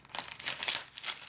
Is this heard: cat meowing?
no